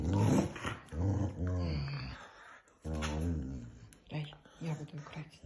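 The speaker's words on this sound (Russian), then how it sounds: "Тяни, тяни, грозный пёс, тяни." A dog growls steadily up close while tugging during a play session, with rising and falling rumbles and brief pauses, and a person talks over the growling.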